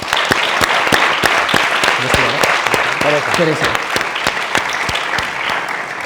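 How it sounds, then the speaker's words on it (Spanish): Audience applause at a volunteer fair talk, loud steady clapping from a crowd filling the whole stretch, with a short spoken word heard partway through. "Así que os voy a pedir un aplauso."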